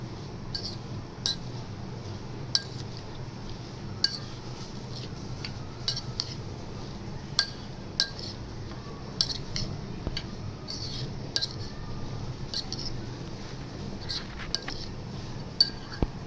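A spoon stirs spices such as kalonji, turmeric and Kashmiri chilli powder into green chilli pickle in a metal bowl, giving repeated sharp clinks against the dish over a soft scraping mixing sound, close and steady, with no talking.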